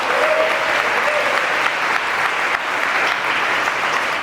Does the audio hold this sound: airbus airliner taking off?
no